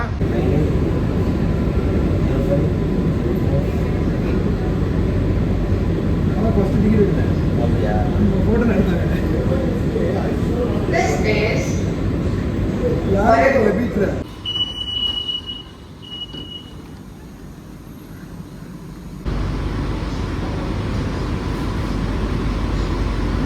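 A new Chennai AC local train rumbles steadily along with a broad roar, people talking over it, then the noise drops briefly before the loud running sound resumes.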